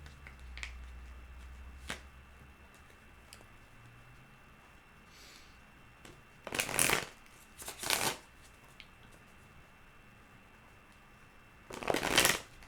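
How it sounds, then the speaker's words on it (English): Tarot cards being shuffled in three bursts of riffling and shuffling, near and fairly loud, separated by quiet pauses with a few faint taps, and no talking. "Let's pull some more cards and see what we come up with."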